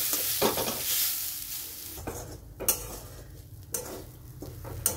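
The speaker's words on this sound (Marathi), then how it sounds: "आता या नारळाला ना कमी गॅसवर आपल्याला परतून घ्यायचंय" Grated fresh coconut roasting in a pan over a low gas flame, with a soft hiss and repeated spatula scrapes and knocks against the pan, close and fairly quiet, no talking.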